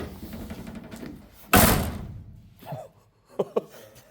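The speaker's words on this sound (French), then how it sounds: "On dirait que j'ai fermé la porte d'un camion." A single solid thunk as a car door is shut on a BMW E30 drift project car, followed by brief faint knocks and handling sounds in a quiet garage.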